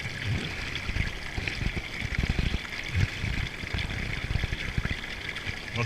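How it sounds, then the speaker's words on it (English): Water flowing at a stream below a waterfall on a winter hike, with ice crystals formed nearby; a steady broadband rush fills the clip, with low burbling pulses underneath and no talk. "Calming as the sound of water flowing here."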